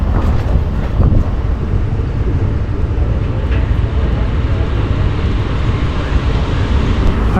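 A train pulls out of Shoranur Junction in Kerala with a loud, constant rumble and roar heard from on board. The noise fills the whole stretch.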